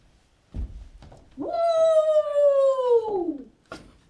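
A single long, tonal dog howl rising then falling, close and clear, framed by a few soft thumps before and after.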